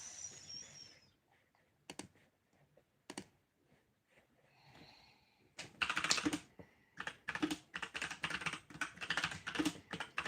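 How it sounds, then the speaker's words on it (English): Typing on a computer keyboard during a study session, a few isolated key taps at first, then a quick, close run of clicking keystrokes. "I'm just typing here"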